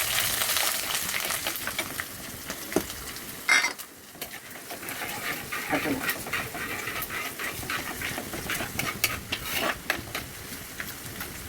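Steady oily sizzle of garlic and ginger frying in a pan, with occasional clinks of a spoon stirring against the metal.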